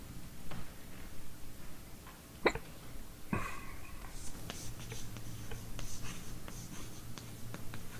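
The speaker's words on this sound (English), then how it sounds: "Let me write down the name." A pen scratches out a book title by hand, faint irregular scribbling strokes close by, broken up by a sharp click and a cough or hiccup.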